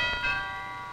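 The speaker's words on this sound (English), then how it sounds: "That's the doorbell." A doorbell rings once indoors, a bright bell-like chime with sustained ringing tones that fade over about a second, faint and alone.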